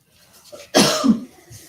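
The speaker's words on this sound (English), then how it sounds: "the cough is here as well" A single short cough, close and fairly sharp, with a softer throaty tail and quiet surroundings.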